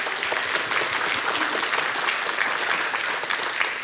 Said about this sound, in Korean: 큰 박수로 다시 한번 맞이해 주십시오